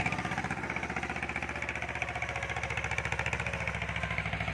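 A walk-behind tractor engine, offered for sale with working gears and hydraulics, idles steadily with a fast, even chugging pulse, moderately close and alone without talk.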